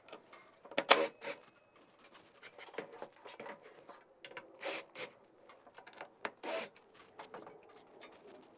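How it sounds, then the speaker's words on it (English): Screws being removed from the top of a Titan table saw fence, with short scraping, rasping turns and small metallic clicks coming in separate bursts, close and fairly quiet. "if I take these screws out of the top here"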